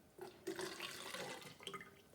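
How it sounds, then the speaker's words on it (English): Warm water poured into a bottle for a yeast-and-balloon science activity, giving a faint, steady splashing and gurgling pour that swells and wavers for about two seconds. "just pour that warm water into the bottle"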